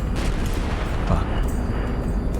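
A missile being destroyed in HighFleet, a dense rumbling explosion with crackling debris and heavy low-end boom, loud and continuous, with a voice speaking briefly over it.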